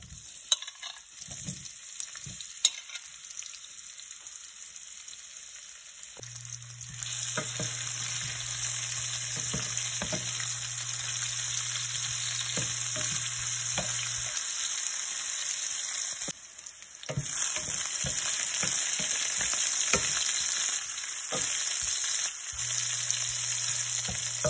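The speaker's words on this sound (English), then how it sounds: "I'm going to saute for a minute or so. And then I'll be adding my onions." Chicken drumsticks sauté in a pan with onions, giving a constant sizzle and frying crackle with occasional soft stirring clicks, fairly quiet and steady with no talk.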